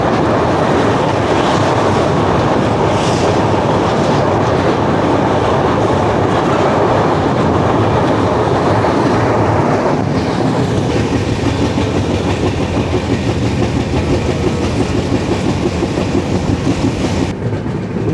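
The 12517 Kolkata–Guwahati Garib Rath Express runs along the line, a loud, continuous rumble of wheels and carriages with steady rhythmic clatter throughout, heard up close with no speech.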